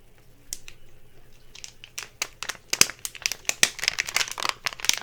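A plastic water bottle is squeezed and handled up close, giving sharp, irregular crinkling crackles that grow denser and louder toward the end, with no talking.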